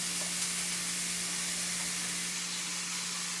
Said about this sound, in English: we got some olive oil heated up in this pan here, and I'm going to have some minced onion, tomato, and jalapeno get thrown in here